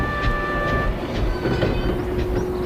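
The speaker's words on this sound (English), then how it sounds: "Edward clanked in with his stopping train" A steam engine train clanks along the rails with rhythmic metallic clatter and a low rumble, loud and close, with a faint high whistle-like tone running underneath and no voices.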